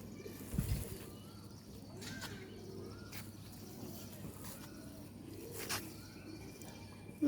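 Pigeons coo softly at a rooftop loft, a faint, low murmur of calls with a few brief wing flutters against a quiet background.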